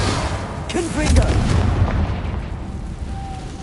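A Confringo fire spell from Hogwarts Legacy explodes in a heavy, booming burst that sounds like artillery. A rumbling tail follows and fades slowly, with faint game ambience underneath.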